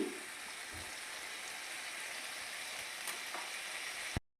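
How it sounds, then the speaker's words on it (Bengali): Ground spice paste with a pinch of hing frying in hot oil, a steady close sizzle and crackle that runs evenly for about four seconds before cutting off abruptly. "এবার আমি যে গুঁড়ো মশলাগুলো গুলে রেখেছিলাম সেটা আমি এর মধ্যে ঢেলে দেব"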